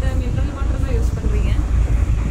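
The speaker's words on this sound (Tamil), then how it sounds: "இன்ஜின் பார்த்திங்க அப்படின்னா இது கீழே இருக்காமா அதனால தான் சவுண்டு வந்துட்டு செம்மையாக சவுண்டு வருது" Steady low rumbling drone of a boat engine running below the deck, close and continuous, with wind buffeting the microphone throughout.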